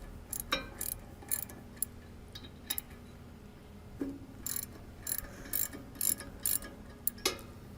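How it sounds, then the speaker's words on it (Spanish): Bolts loosened with an open-end wrench or ratchet on a Lhaura 3.0 forage chopper, giving scattered sharp metallic clicks and short ratcheting bursts at close range over a low steady hum, with no talking. "lo que requerimos es una llave boca fija o un rache. Procedemos a soltarlos."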